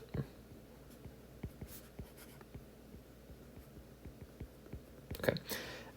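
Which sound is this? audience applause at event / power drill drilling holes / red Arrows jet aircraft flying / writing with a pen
writing with a pen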